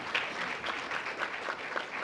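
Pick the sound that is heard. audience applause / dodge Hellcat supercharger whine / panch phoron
audience applause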